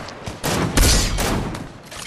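A rapid cluster of loud gunshots from Fortnite, several overlapping cracks in quick succession over about two seconds, close and punchy with no talking.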